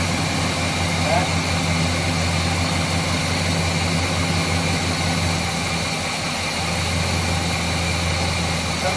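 A Chevrolet 350 V8 engine with an intake manifold gasket problem idles in a steady low rumble with an even, continuous hum, while a person talks over it.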